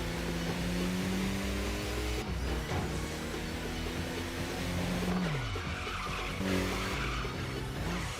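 Tires squeal as a car skids through a handbrake turn in the video game Tokyo Xtreme Racer, layered over a loud revving engine whose pitch rises and falls across several sliding bursts.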